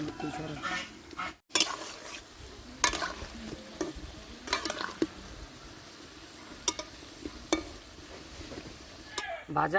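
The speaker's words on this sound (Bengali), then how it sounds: "একে একে তুলে নিচ্ছি বড়া পিঠেগুলো আমি সব ভেজে নিয়েছি" Jackfruit fritters (bora pitha) frying in oil in a village kitchen, a steady low sizzle with scattered sharp clicks and scraping stir sounds, fairly close, with faint voice in the background.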